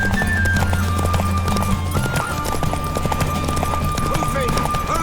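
Horse hooves clip-clopping at a gallop during a race in The Witcher 3, a steady rapid beat with an occasional whinny, set under game music and character voices shouting encouragement.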